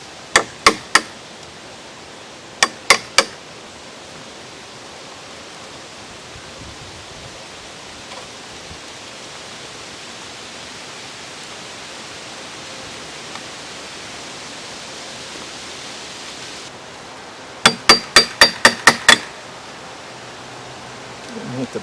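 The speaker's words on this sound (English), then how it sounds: "Now I'll just neaten these up with a chisel." A chisel taps bricks to neaten them, with short bursts of sharp metallic strikes at the start and a faster run near the end, separated by a long stretch of steady background noise.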